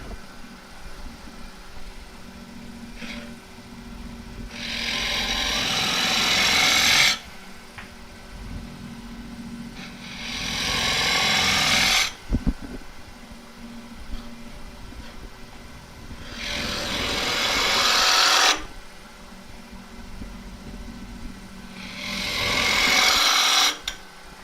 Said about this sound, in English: And speed the lathe up a little bit.